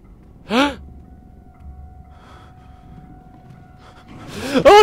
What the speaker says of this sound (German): aber hör auf zu laut zu atmen.